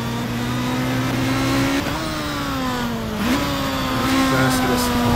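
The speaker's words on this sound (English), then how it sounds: "You can hear the tires squealing, not as much grip as a Formula Rita car." Stock car tyres squealing under hard cornering in the racing game Stock Car 2012 at Interlagos, a loud sustained tonal whine bending in pitch over a steady engine drone.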